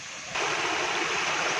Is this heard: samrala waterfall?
yes